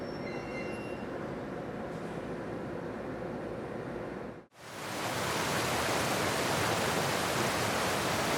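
Snowmelt water rushes loudly down a mountainside in the Northern Alps in spring. A quieter, rumbling stretch with faint high squeals cuts abruptly to a close, steady, powerful roar of water.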